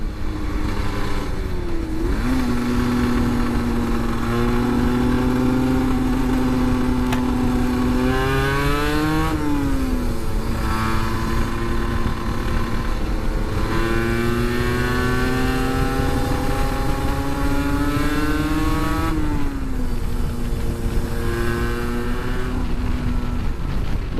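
A 125cc motorcycle drones loudly and close throughout a ride, its engine rising through repeated revving climbs and dipping at each gear change, with steady wind roar underneath.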